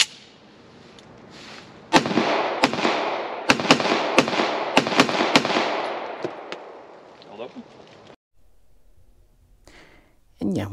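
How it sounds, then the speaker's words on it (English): Gunshots from a Colt M45A1 CQBP 1911 pistol fired outdoors on a range, eight or so sharp loud reports in an uneven string over a few seconds, ringing out against broad background rumble before it falls quiet. "I really do enjoy shooting all of these guns."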